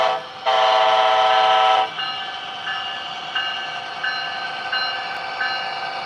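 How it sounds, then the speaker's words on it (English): A train arriving at a station platform: a loud, sustained horn blast lasting over a second, then rolling carriage and rail noise with regular rhythmic clicks of wheels over track joints, with no talk. "Now arriving on track 5, southbound train number 133."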